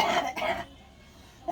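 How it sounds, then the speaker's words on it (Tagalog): A couple of harsh, throaty coughs close by, followed by a quieter stretch of low room noise. "Lala pa rin ang ubo mo."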